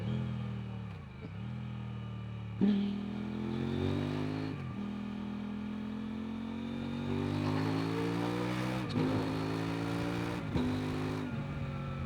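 A 2025 Kove 800X Rally adventure motorcycle ridden on the road on knobbly off-road tyres, its engine droning steadily and rising in pitch through repeated revving and gear changes, loud and close with no talk.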